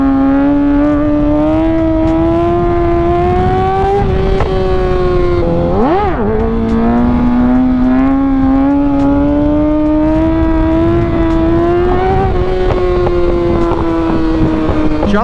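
A motorcycle engine drones loudly at low speed, revving up steadily and then dipping sharply as it lifts into a wheelie, with wind buffeting the microphone throughout.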